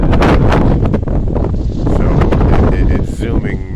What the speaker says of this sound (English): it's probably 15 mile an hour wind with 25, 30 mile an hour gusts